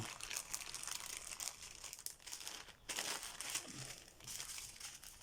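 Sturdy plastic sachets from a craft-supply unboxing of bead-embroidery materials are handled and opened, giving a quiet, continuous run of crisp crinkling and rustling with brief pauses and no speech.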